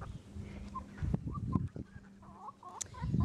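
A combined farmyard flock of chickens clucks and murmurs nearby, with scattered short calls and low grumbling over rustling movement, and no talk.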